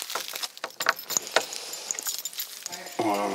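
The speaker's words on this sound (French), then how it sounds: "un trousseau de clés suffit." A bunch of keys jangles at a campsite in several short, bright clinks and rattles, spaced irregularly, before a brief steady tonal hum sets in at the end.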